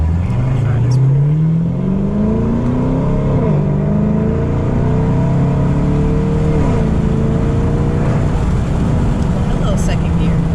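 A car accelerates through second gear, its engine note climbing steadily and loud throughout, heard from close inside the vehicle.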